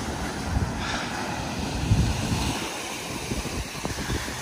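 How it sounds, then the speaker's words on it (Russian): Strong ocean waves surge and break continuously along the Oahu shore in Hawaii, a loud, broad roar of surf mixed with gusting wind buffeting the microphone, with no talking. "Правда, очень сильные волны."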